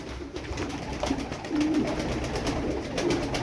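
Arabian tumbler pigeons cooing close by, a few soft low coos spread over a few seconds against a faint background hum.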